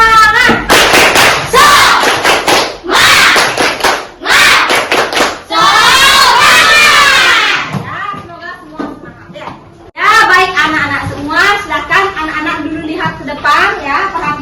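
Schoolchildren in a classroom perform a rhythmic spirit clap and cheer, sharp claps in patterned bursts mixed with shouted chanting, led by a teacher's voice between rounds.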